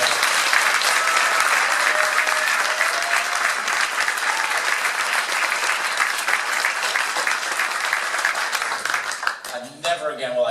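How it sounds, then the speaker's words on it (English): An audience gives a senator a loud, sustained round of applause at a re-election kickoff event, dense clapping that continues until a voice briefly cuts in near the end. "please give him a rousing round of applause"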